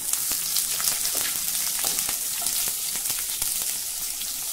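Green chilies dropped into hot oil with freshly fried peanuts, giving a steady close-up sizzle dotted with sharp crackles and pops, with no talking.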